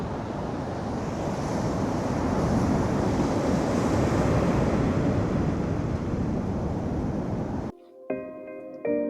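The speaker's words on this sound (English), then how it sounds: "You can hear the rocks tumbling in the sea." Steep, rocky New Zealand beach where heavy surf roars continuously as waves churn and drag rocks back into the sea, loud and close with wind buffeting the microphone, before a brief quieter moment with a faint tonal sound at the end.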